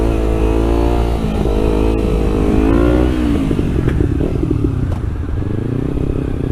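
Kawasaki Ninja 300 motorcycle revved hard to around 7,000 rpm before the clutch drops for a wheelie, loud and close, the engine note rising and falling in bursts with some clatter from the bike.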